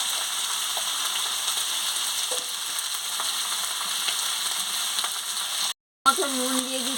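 Chopped onion, turmeric and ivy gourd sizzle steadily in a pan, a close continuous frying hiss with faint stirring clicks, followed by a brief break and a short voice at the end.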